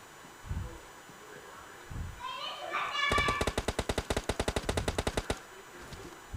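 Rapid automatic gunfire in a battle royale video game, a burst of about twenty evenly spaced shots lasting around two seconds, loud and close, following a brief scraping rustle and faint background sounds.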